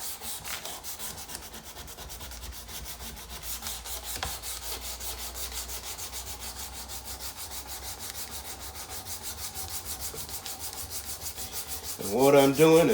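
Hand sanding with 220 grit sandpaper wrapped around a stick, a steady rapid back-and-forth rubbing scrape that continues without a break, close and fairly loud, alone with no talking.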